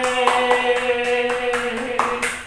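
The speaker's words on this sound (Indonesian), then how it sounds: "mari tepuk tangan buat Tuhan Yesus" Children clap along during a kids' worship service, a few sharp hand claps landing at uneven intervals over a sustained musical backing.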